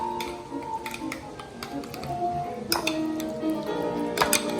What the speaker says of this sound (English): Get that ricotta mixed in there.